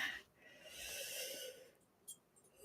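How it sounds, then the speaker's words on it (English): A person lets out a single breathy yawn, rising and fading over about a second and a half, close and fairly quiet, with a short faint sound afterward. "I shouldn't be yawning."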